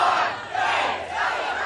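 A large crowd at an outdoor Christian music festival cheers and shouts in a continuous roaring swell, loud and dense, rising and falling slightly over its short span.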